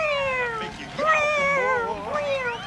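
Several voices gathered around a microphone imitate a cat singing, as for an animated film, with long wavering meow-like wails that slide up and down in pitch, loud and close, running almost continuously.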